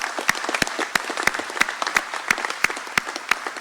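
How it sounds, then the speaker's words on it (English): An audience at an annual meeting applauds linemen, sharp individual claps standing out over a steady bed of clapping that runs for several seconds, fairly close and moderately loud, with no talk on top. "quick round of applause"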